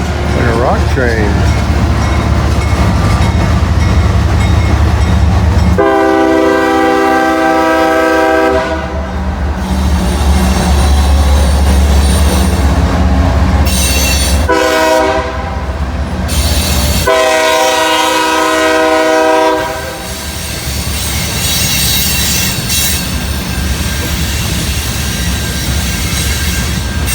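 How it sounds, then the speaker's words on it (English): Rock freight train passing close in Georgia, loud rumbling wheels and clattering cars throughout, with several long blasts of a multi-tone horn in separate bursts; people talk over the passing train. "Like a rock train."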